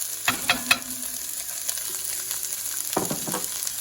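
Steady crackling sizzle of vegetables frying in a hot pan for chicken and andouille jambalaya, with a few sharp pops and clinks near the start and again toward the end.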